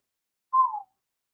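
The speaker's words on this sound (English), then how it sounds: "I whistled as I just saw" A single short whistled note from a person, clear and fairly close, sliding slightly downward and lasting about a third of a second, alone in silence.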